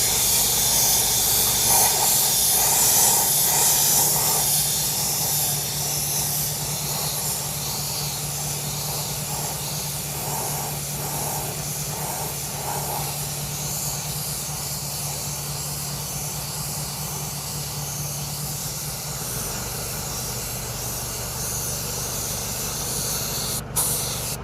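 Spray gun laying fine silver paint onto a machined Audi A3 alloy wheel during curb rash repair, a loud continuous close hiss of atomized spray, steady and unbroken, no talking.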